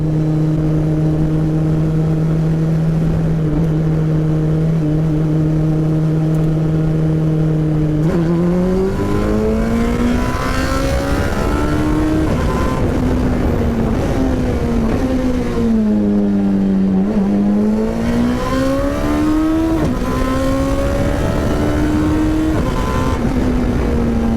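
Race car engine in a racing video game held near 5,000 RPM, a loud, steady droning whine that stays level, then wavers up and down in pitch as the revs shift, with no voice over it.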